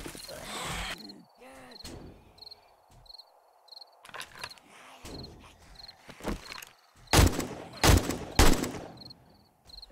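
Semi-automatic M1 rifle fire in the video game 7 Days to Die, with sharp shots spread irregularly through the scene and a loud closely spaced pair near the end, over a steady chirping insect ambience with faint voice-like sounds.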